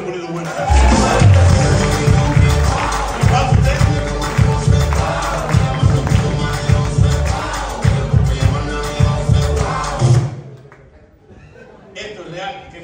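Studio audience at a Cuban comedy show in Miami claps and laughs loudly for about ten seconds, a dense sustained burst that fades out near the end.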